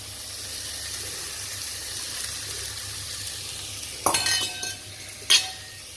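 Tofu, broccoli and mushrooms sizzle steadily in a hot pan; two loud bursts of crackling and clinking mark capsicum dropping in, then the hiss settles back down.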